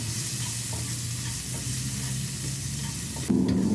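Shallots frying in a little cooking oil in a home kitchen, a steady bright sizzle with soft intermittent stirring scrapes, close and continuous, a louder clatter near the end.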